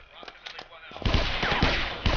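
Gunfire in the video game Guns, Gore and Cannoli: a few sparse shots, then a dense, rapid machine-gun burst with sharp repeated cracks, loud and close, under music.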